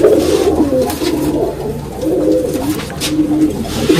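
Pigeons cooing in a loft, several soft throaty coos overlapping in repeated phrases, close and clear with no talking.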